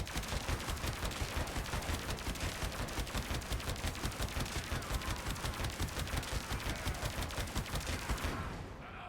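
Rapid-firing hitscan amp primary fire in Warframe, a dense continuous stream of fast, evenly spaced electric shots lasting several seconds before cutting off, loud and alone.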